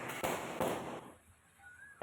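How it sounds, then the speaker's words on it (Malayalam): Small firecrackers set off for the Vishu festival give sharp, fairly faint bursts over a soft background hiss, with a quieter tail and a final crack near the end. "കണി കണ്ടിട്ടുള്ള പടക്കം പൊട്ടിക്കലാണ്"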